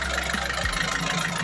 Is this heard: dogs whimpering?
no